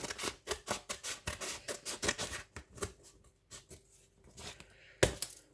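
Scissors snip through the covering material of a homemade desk tidy in a quick run of crisp, rhythmic cuts close by, slowing with a short pause before one last sharp snip.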